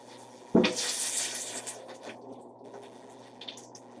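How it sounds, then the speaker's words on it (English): Water splashes suddenly into a cooking pot for boiling chicken, a sharp gush that settles into a softer steady pour and fades within a few seconds, close and alone. "Going to put the water now."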